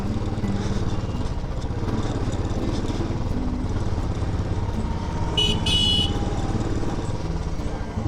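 Motorcycle engine running steadily up close while riding toward Jaisalmer fort in Rajasthan, a continuous low rumble with a brief horn-like tone near the end.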